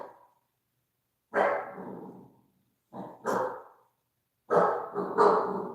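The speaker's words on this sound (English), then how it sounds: "Goose, what are you barking at, babe?" A dog barks indoors, close and loud, in three separate bursts of one to several gruff barks with brief silences between them.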